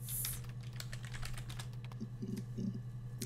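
Keys clack on a computer keyboard as a search is typed into the video game Her Story, a quick run of soft, close taps over a low steady hum, ending in a few heavier strokes.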